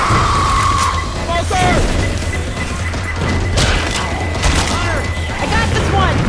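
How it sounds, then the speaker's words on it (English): Pipe bomb blasting in Left 4 Dead 2 amid a crowded firefight: loud crashing bursts and scattered gunfire over a constant roar of game noise, with a beeping tone and shouted voices mixed in. "Pipe bomb out!"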